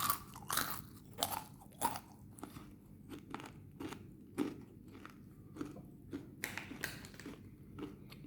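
Crisp crunching and chewing of Haldiram's bhujia, a fried gram-flour snack, close to the mic: a series of irregular sharp crunches with quieter chewing between them, no talking.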